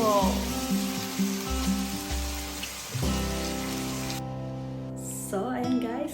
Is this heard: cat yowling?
no